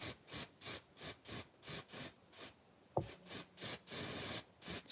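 Cheap hairspray misted onto model pine trees for a model railway layout in short repeated bursts, about a dozen hissing sprays with brief gaps, close and fairly loud, with one longer continuous spray near the end and no voices.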